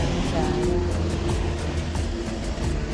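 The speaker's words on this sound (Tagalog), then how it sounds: "Ang ingay lang ng ano, mga sasakyan." Vehicles pass along the road in front of a house, making a steady, continuous broadband traffic rumble with no clear gaps, while talking carries on over it.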